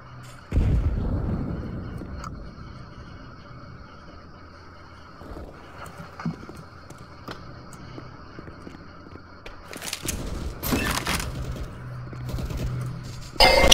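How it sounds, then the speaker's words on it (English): A grenade explodes in the CS:GO competitive match on the Nuke map, a loud booming blast around the ten-second mark amid game ambience, earlier gunfire and footsteps. "Throwing a grenade."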